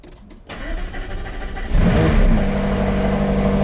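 A McLaren 540C sports car engine cranks and fires up, jumping to a loud, deep idle that holds steady and close.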